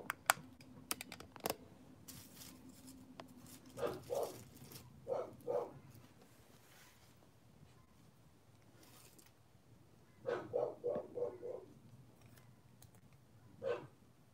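A dog barks in several short clustered bursts at a distance, two groups of rapid barks and a final single bark, faint over steady keyboard typing and clicking indoors.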